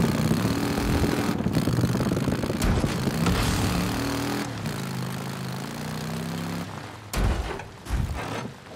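Motorcycle engine in the video game Days Gone, rumbling and revving at mid pitch with shifting tones, mixed with other game sounds and a few sharp thuds near the end.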